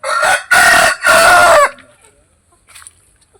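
A Kodi Nemali fighting rooster crows nearby in three loud, strained bursts, then quiet with a faint cluck at the end.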